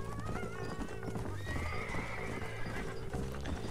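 In the video game Red Dead Redemption, horse hooves clip-clop steadily while a horse neighs and whinnies over a low backdrop of game ambience and music, moderately loud and continuous.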